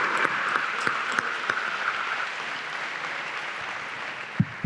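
Conference audience in a hall applauding, a dense, sustained patter of many hands clapping that slowly thins out, with a few louder nearby claps toward the end.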